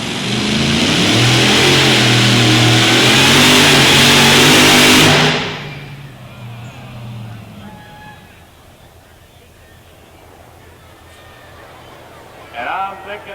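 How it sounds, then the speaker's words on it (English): A supercharged Hemi engine in a bush-pulling truck at a county fair pull in Nebraska roars loudly at full revs for about five seconds, then cuts off abruptly, leaving quieter background noise with a crowd and a faint distant engine. "Supercharged Hemi."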